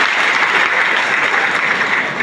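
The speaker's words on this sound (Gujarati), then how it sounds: "સુપ્રીમ કોર્ટે જોરદાર તાળીઓથી બતાવો." Loud, sustained applause from a crowd at a thanksgiving gathering honoring the Supreme Court's reservation verdict, steady clapping throughout with no voices over it.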